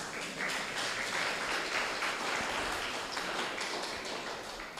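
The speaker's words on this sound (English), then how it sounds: "You can clap to that, it's important." An audience at a leadership session claps together in a soft, even patter that carries on without a break. It sounds fairly distant and quiet, with no talking.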